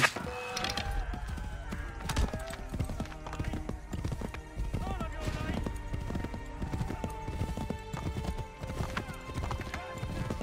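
Horse hooves clip-clopping at a quick galloping rhythm in the video game Assassin's Creed 3, with a whinny and wooden knocks mixed in, steady and fairly close throughout, no voices heard over it.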